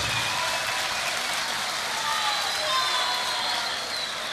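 A concert crowd at a live show claps in a dense, steady roar of applause that holds evenly across the whole stretch, with faint sustained musical tones drifting underneath.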